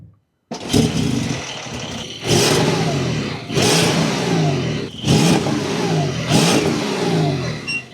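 A Porsche 911 GTS of the 992.2 generation starting up, with a loud close engine catch followed by a series of rising revs and falling settles, about four surges in a row.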